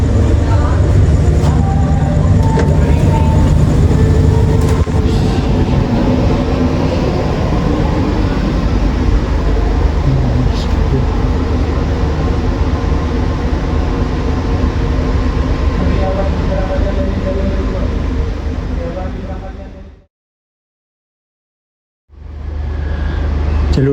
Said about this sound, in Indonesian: kereta api Taksaka tujuan Yogyakarta juga siap diberangkatkan